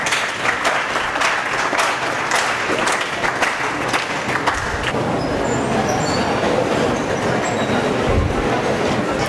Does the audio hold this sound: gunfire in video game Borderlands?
no